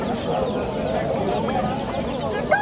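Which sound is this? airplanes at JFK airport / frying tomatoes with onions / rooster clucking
rooster clucking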